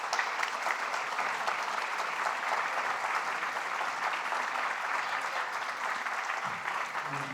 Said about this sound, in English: why don't we have a big round of applause for all of our speakers